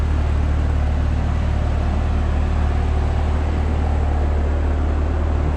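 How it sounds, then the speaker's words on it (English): A 2007 Porsche Cayman with a five-speed gearbox holds a steady, loud fast idle while warming up, its engine giving an even low drone with no talking. "fast idle just kicks off as the car is coming up to temp."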